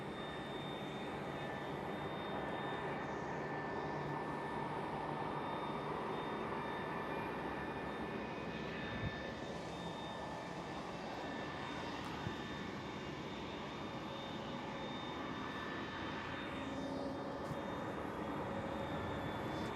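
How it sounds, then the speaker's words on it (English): An Airbus A321neo jet passes by at Schiphol airport as a distant, steady engine roar that holds level for the whole stretch, with no voices. "A321 Neo passing by in the background behind the Delta Airlines A330 that is starting up."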